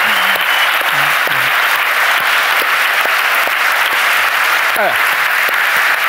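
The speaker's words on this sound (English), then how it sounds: "let's all give a round of applause No. for Slavoj Žižek" A large audience gives Slavoj Žižek dense, loud, continuous applause that holds steady throughout with no break.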